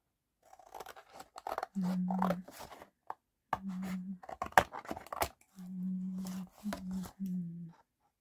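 Scissors snip through paper up close in a handful of short, crisp cuts, separated by quiet pauses and small rustling handling sounds.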